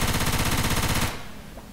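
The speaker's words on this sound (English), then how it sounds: "Taking the machine gun." Machine gun fire in the zombie shooter Left 4 Dead 2, a loud, rapid unbroken burst for about a second that cuts off abruptly into a brief fading tail.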